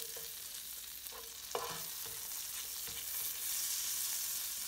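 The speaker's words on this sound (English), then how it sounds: "Now we're gonna add our garlic." Two cut garlic cloves frying in butter in a pan, a steady close hiss of sizzling with a few soft stirring knocks and taps, no voices.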